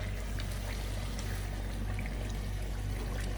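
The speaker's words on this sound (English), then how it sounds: "it needs a little bit of water. Always add hot water or boiling water." Hot water pours steadily into a pot of lamb curry, a continuous close trickling splash over a low hum.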